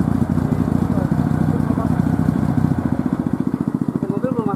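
A motorcycle engine fitted to a homemade helicopter built from scrap parts runs steadily with a loud, throbbing mid-pitched drone. Voices talk over it.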